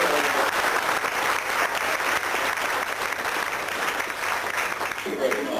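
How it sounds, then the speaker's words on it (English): Audience at the Colchester Fling 1994 gives a steady round of applause, dense clapping filling the whole stretch at a moderate, slightly distant level without a break. "Give me a clap, he's over there."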